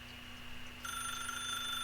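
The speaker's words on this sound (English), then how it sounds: "then pick up the phone." A telephone rings in The Stanley Parable video game, a quiet electronic ring starting partway through over a low steady hum.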